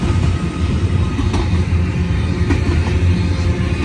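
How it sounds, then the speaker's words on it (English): A westbound port stack freight train heading to Long Beach rolls past on a main track, a steady loud rumble and rail roar with faint clanks, continuous and close. "We got another port stack train"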